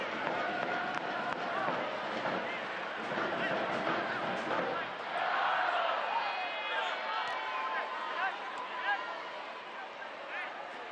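A crowd of travelling fans in a soccer stadium, at a Tampa Bay Rowdies versus Indy Eleven match, keeps up a steady distant roar with a swell of cheering partway through, under continuous commentary from a match announcer.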